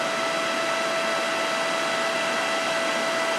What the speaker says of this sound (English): So the fan gets pretty loud.